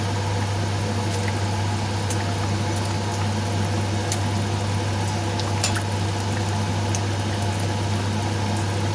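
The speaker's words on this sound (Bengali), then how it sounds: "কিছুক্ষণ এটাকে ফুটিয়ে নেব," A katla fish curry with potatoes bubbles as it boils, a constant loud simmering hiss with a low steady hum beneath and faint clicks scattered through.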